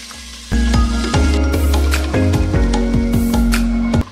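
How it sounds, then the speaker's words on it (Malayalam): Sliced onions frying in coconut oil make a loud, close, continuous sizzle that starts abruptly, with repeated stirring scrapes and knocks against the pan before it stops sharply near the end. "ഇനി നമ്മൾ അതേ വെളിച്ചെണ്ണയ്ക്ക് തന്നെ സവോള ഇട്ടിട്ട് ഒന്ന് വറുത്ത് കോരിയെടുക്കാൻ പോവാണ്"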